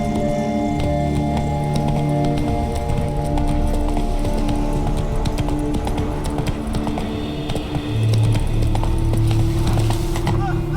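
Roach, Geralt's horse in The Witcher 3, gallops with steady clip-clopping hooves under a continuous bed of game music and ambience, with a brief voice in the background and no pauses.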